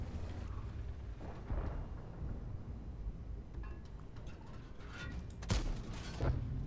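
Tank cannon shots in World of Tanks come as a couple of sharp, heavy booms late on, over a low rumbling background, with no voice over them.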